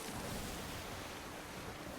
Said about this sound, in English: I've got to love the crashing of the waves on this.